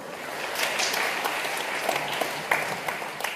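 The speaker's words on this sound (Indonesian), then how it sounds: "Tepuk tangan untuk kita semua." An audience at a leadership talk breaks into sustained applause, a dense, steady wash of many hands clapping that rises slightly toward the end.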